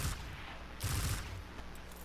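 An exotic weapon fires in Destiny 2 as two fairly quiet bursts of rapid shots, each lasting under half a second, with low rumbling impacts between them.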